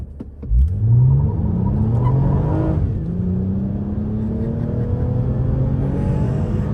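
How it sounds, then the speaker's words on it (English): A 2022 Toyota Camry TRD launches hard with traction control off, its engine revving up steeply through first gear with loud close rumble, then dropping and climbing again after a shift into second. "Pretty much spun through first gear and then shifted into second."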